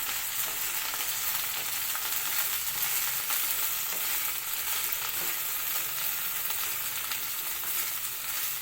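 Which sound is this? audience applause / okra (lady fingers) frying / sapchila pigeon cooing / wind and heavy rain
okra (lady fingers) frying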